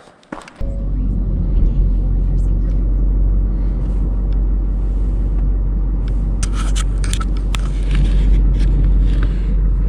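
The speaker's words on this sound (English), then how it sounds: "All right, we're gonna pull the truck out." A pickup truck pulls out from under a large truck camper, its engine making a close, steady, heavy rumble after a short start, with light scraping and clatter on top.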